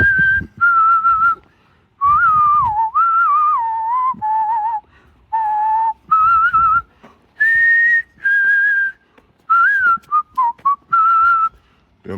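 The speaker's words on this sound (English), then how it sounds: "A whole album on just whistling." A person whistles a melodic tune in short phrases with brief pauses between them, clear and close.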